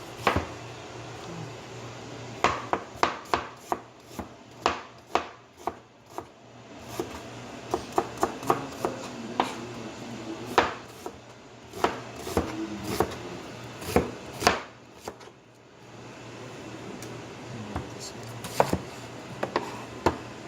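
Knife chopping onions on a board in a home kitchen, with crisp irregular chops in bursts, close and clear over a low steady background hum.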